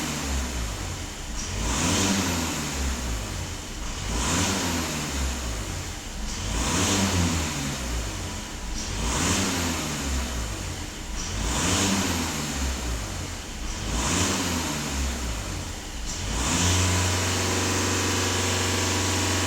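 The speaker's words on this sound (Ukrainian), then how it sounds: "Автомобіль сам газує." A VW Passat B8 Alltrack engine revs on its own in steady repeating surges, about every two seconds, during a DPF and EGR system cleaning, then settles to a low idle near the end.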